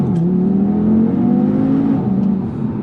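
A 2019 Audi TT RS with its 2.5-litre five-cylinder engine revs steadily and close up, a loud, continuous droning note that rises slightly and holds before dipping near the end, with no talk over it.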